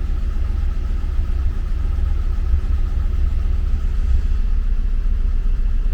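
A car engine idles at about 850 RPM after an oil and filter change, a steady low rumble held close and even with no voices.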